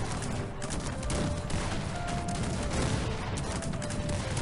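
Dense, continuous cannon fire and booming shots crackle nonstop in a Cossacks 3 battle, with faint tonal game sounds layered over the din.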